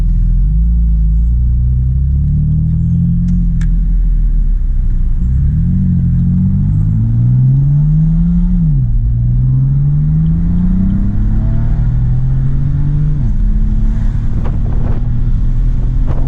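A BMW car with new exhaust tips, heard from inside while driving, its engine droning loudly and rising in pitch through repeated revving pulls between shifts, with wind rumble throughout.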